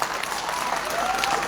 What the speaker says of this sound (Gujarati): એના માટે જોરદાર તાળીઓ.